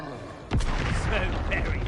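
A Confringo blasting spell explodes in the Hogwarts Legacy video game: one loud, sudden blast about halfway through, followed by a heavy, sustained rumble and crackle that fills the rest of the moment.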